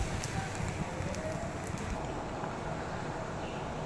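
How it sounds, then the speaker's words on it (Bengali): Sandwiches fry slowly in a pan with a soft, steady sizzle and occasional crackles, close by and faint, with no speech. "সবগুলো এভাবেই আস্তে আস্তে করে ভেজে নেব"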